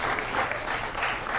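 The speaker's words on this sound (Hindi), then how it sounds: "बच्चों जरा तालियां।" A studio audience at a Hindi TV political debate breaks into a short, loud burst of dense applause.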